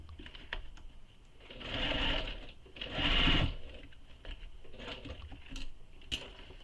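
A sewing machine stitches a bag in two short, buzzing bursts of rapid needle clatter, close and clear, with quiet tapping and handling noises in between.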